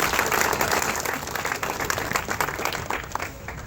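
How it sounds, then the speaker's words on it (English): A crowd gives a big round of applause at a grand opening ceremony, dense sustained clapping close by that tapers off near the end. "can we get a big round of applause for them?"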